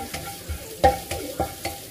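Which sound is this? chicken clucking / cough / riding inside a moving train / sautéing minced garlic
sautéing minced garlic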